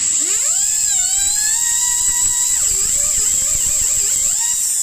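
A jewelry turbine drill bores a pilot hole in a stone, its continuous high-pitched whine sliding up and dipping in pitch as the bit bites, loud and close with no talk.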